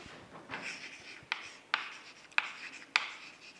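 Pen or chalk writing out a cofactor matrix in a maths lesson, a soft scratchy rubbing stroke followed by four sharp taps or dots spaced about half a second apart, close and quiet with no talk.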